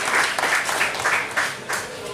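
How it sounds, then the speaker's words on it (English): Audience applause for hypnosis show volunteers at a university stage show in Birmingham, a steady broadband patter of many hands lasting a couple of seconds, with voices rising through it. "Give our volunteers a big round of applause."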